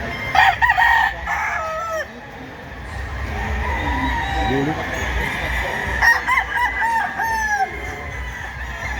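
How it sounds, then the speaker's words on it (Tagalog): Roosters crow repeatedly, loud and close, at a hobby expo and pet convention, with several overlapping cock-a-doodle-doos and some clucking; a voice speaks briefly. "Maganda mga manok, mga classmates."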